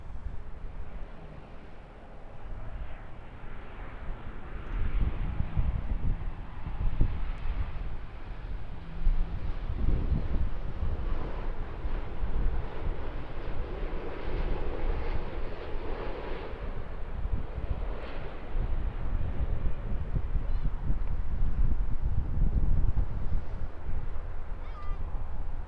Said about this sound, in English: touching down on 23 left here at Auckland.